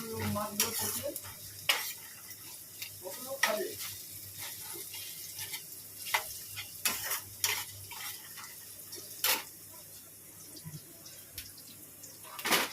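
Onion and peanuts frying in a pan for chow mein, a soft sizzle under repeated spatula scrapes and clinks against the pan, close up, with faint household noises in the background.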